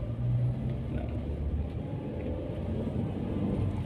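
A car pulls away after the gas pedal is pressed while turning, giving a steady low engine rumble with road noise heard from inside the cabin and no talking.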